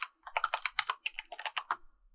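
Quick bursts of typing on a computer keyboard while setting up interactions in Unreal Engine 5, a close, brisk run of about twenty keystrokes with no speech.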